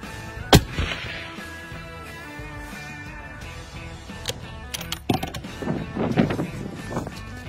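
A rifle fires once at an outdoor range during a scope ladder test, a sharp loud crack near the start followed by mechanical clatter and rustling handling noise.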